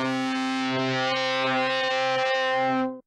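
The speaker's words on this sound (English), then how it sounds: "first a not distorted clean sound, and then distorted version" A sustained, buzzy instrument tone with dense harmonics, steady and loud for about three seconds before cutting off abruptly.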